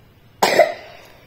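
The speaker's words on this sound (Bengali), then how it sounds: "কাশি হচ্ছে।" A single sharp cough from a person, close and fairly loud, with a brief trailing tail and no speech.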